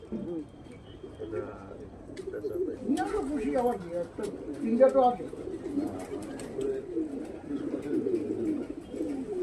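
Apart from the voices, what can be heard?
pigeons cooing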